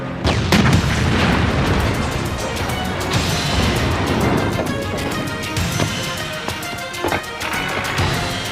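Heavy explosions rumble and boom in a dense, loud barrage, with sharp cracks and bursts repeating over a continuous roar.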